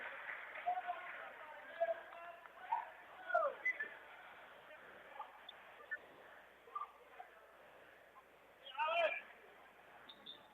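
Referee's whistle blown on a foul against a double team in a high school basketball game between LaGrange and Giddings, short shrill blasts rising around mid-clip and again near the end over crowd murmur and commentary.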